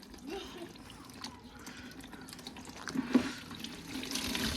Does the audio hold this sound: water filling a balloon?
yes